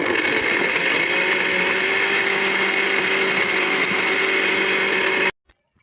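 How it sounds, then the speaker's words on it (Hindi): A kitchen grinder blends milk with dates for a date shake, running as a loud, steady, close whir for about five seconds before it cuts off abruptly into silence. "तो ऊपर से ग्राइंडर जो है वो हम चला देते हैं।"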